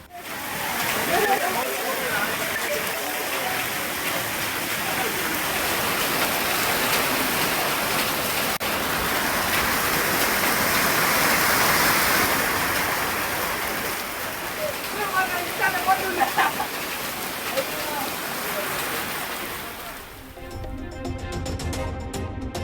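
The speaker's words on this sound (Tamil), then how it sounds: "புதுச்சேரியில் கனமழையால் சாலைகள் வெள்ளமாக மாறியதால் பொதுமக்கள், வாகன ஓட்டிகள் அவதி." Heavy rain pours down steadily over flooded roads in Puducherry, a dense, continuous wash of water that stays loud and even throughout before cutting off near the end.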